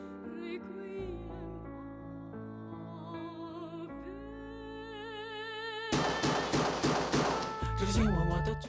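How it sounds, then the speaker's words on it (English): A melodic tune from an album plays, then a rapid burst of loud gunshot bangs fires in quick succession over the music before it settles back down. "Whoa, we have gunshots."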